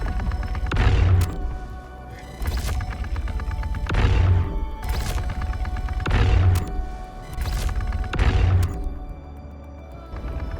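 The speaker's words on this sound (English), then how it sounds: "so I decide to ham on it with the Railgun" A railgun repeatedly firing at a Corsair ship in the space game Star Citizen, about five heavy booming shots at roughly two-second intervals, each with a charging whine and a decaying tail. No voices.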